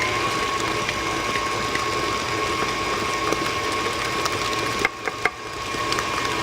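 An electric mixer churns cookie dough just after the eggs go in, a steady whirring mechanical drone with a faint rattling texture that runs continuously, broken briefly by a couple of small knocks near the end.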